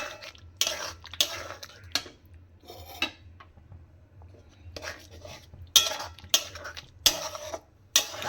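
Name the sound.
stirring paneer in a pan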